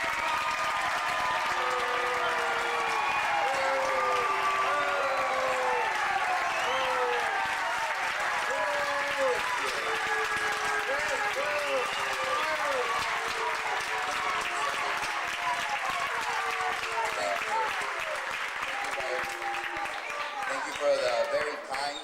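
A crowd at a Tucson event applauds to welcome Rep. Luis Gutierrez, with sustained loud clapping and cheering lasting the whole stretch and voices calling out through it.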